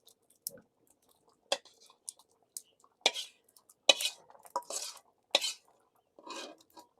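Khichuri with beef being stirred in a pot, a spoon scraping and clinking in scattered short strokes, fairly close and quiet with pauses between.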